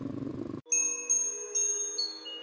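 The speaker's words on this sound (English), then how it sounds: "every time the wind blew hard in the tiny forest, the giant seashell wind chime would ring" A giant seashell wind chime rings out in a tiny forest, several clear bright tones striking one after another and lingering, after a brief low rumble of wind.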